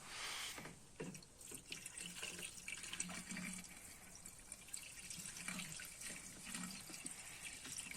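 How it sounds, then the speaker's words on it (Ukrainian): Radiator fluid runs in a continuous, splashy stream into the cooling system opening of a VAZ 2106 engine, a steady trickling pour with faint knocks, no voices heard. "Так, тепер отака жидкость для радіаторів. Заливаємо."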